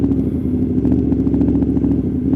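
A loud motorcycle engine drones steadily while riding, with a constant low rumble and wind noise filling the short stretch, no talk.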